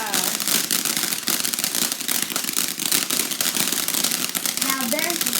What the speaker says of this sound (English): Now there's the Savage. It's a Savage.